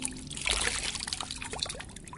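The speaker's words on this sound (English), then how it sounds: "It does sound like water." Water trickles and pours into a bucket down an old well with rusted parts, a steady faint liquid gurgle and dribble with no voices.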